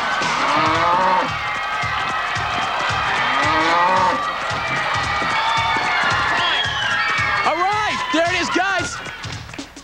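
Cattle moo loudly again and again during a cow tipping game at a televised competition, with long drawn-out calls over a rhythmic pounding beat and crowd noise, and a burst of several overlapping moos near the end.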